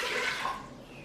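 Milk and water poured into an Instant Pot over oatmeal make a soft, steady liquid rush, nearby and fading slightly toward the end.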